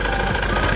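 Small engine of an Iseki Land Mini 30 cultivator running steadily, a close, even chugging hum with a faint knock and vibration throughout the short stretch.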